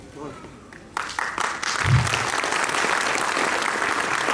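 An audience at a school foundation-day event breaks into applause that swells after about a second into a steady, dense wash of clapping that carries on to the end.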